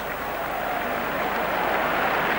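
A rugby match crowd, Five Nations against an Overseas XV, cheers and roars in a continuous wash of noise with commentary talking over it.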